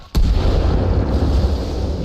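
Mortar rounds in Arma Reforger land in a heavy, close explosion that erupts abruptly and rolls into a sustained loud, rumbling roar with debris noise.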